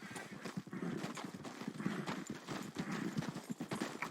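A horse's hooves clip-clop in a quick, steady rhythm in a video game, close and fairly quiet, with faint ambient noise and no speech over them.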